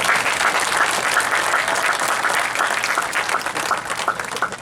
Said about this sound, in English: How about a round of applause for them too?